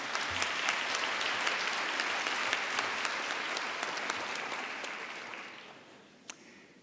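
At the 2017 Belhaven University commencement, an audience gives steady, dense applause that holds for several seconds before thinning out, followed by one last isolated clap.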